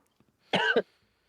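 A single close, sharp cough, brief and throaty, with silence before and after.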